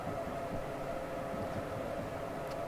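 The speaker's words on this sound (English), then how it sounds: "there's a train coming using that line" A train approaches on the line in Train Simulator 2015, New York to New Haven route, giving a steady, continuous rumble with a droning tone that holds evenly throughout, heard alone.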